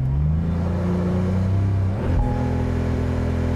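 A 2021 Porsche 911 Turbo S Cabriolet revving hard in a brake stand, loud close engine roar with pitch swelling, a brief dip near the middle, then surging again, no talk.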